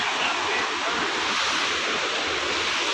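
A river rushes steadily beside a forest path lined with tall trees on the stepped climb to Marleshwar temple, a continuous broadband wash of flowing water heard up close without pause.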